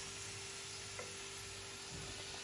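Mini doughnuts made from yogurt and flour fry in oil with a steady, dense sizzle, close and fairly quiet, and an occasional stirring touch and no speech.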